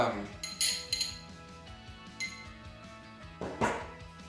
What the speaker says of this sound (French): On va continuer comme tout à l'heure à le faire fondre avec la petite cuillère